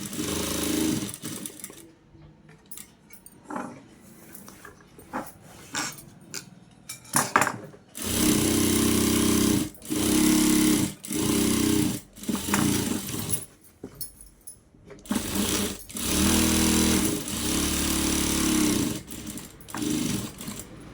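A sewing machine stitches a petticoat in a tailoring class, running in a series of loud rapid bursts of a few seconds each, separated by short pauses and some handling noise.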